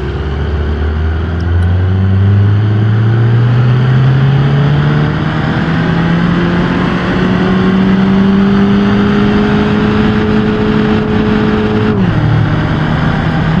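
Hyundai Creta 2020 engine in a driving game on a Logitech wheel, accelerating in manual with a loud, steady rising engine note that climbs through a long pull and then drops sharply as the gear changes.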